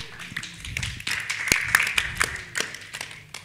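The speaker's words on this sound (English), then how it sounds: "A big round of applause for Robert." Scattered clapping from a small audience at a mentorship summit panel discussion, a handful of uneven, close claps building briefly, then thinning out.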